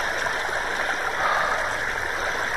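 Scuds are poured into creek water, heard as a steady, close rush of flowing and splashing water that continues evenly throughout without voices.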